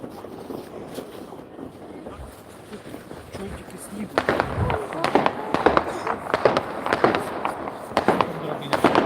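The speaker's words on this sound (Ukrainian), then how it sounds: "І завжди в нас тут салют." Rapid crackling fireworks bursting in an irregular series near a home in Poland, distant pops building to a dense crackle, with wind noise and voices in the background.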